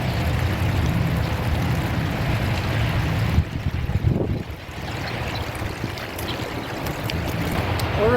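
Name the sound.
pump draining water from a koi pond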